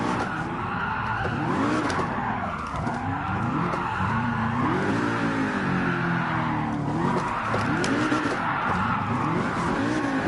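A car drifting in Gran Turismo Sport, with a loud, continuous tire squeal and screech over a revving engine, sustained throughout with sweeping pitch changes as the car slides through transitions.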